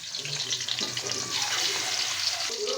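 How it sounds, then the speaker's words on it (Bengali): Spiced tilapia fish fries in oil in a pan with a dense, steady sizzle that hisses close by, with a clunk near the end. "মশলা মাছটা আমার মাখা হয়ে গেছে মশলা দিয়ে আমি এক করে কড়ার মধ্যে দিয়ে দিব"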